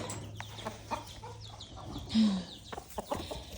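Several backyard chickens on an urban farm cluck in short, irregular bursts close by, with one louder squawk partway through and a light rustle of movement in between.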